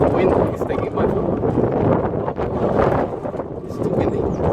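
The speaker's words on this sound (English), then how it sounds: "It's too windy" Strong outdoor wind buffets a phone microphone during rear bumper work on a 2002 Citroen Xsara Picasso, a loud continuous rumbling roar that fills the whole stretch.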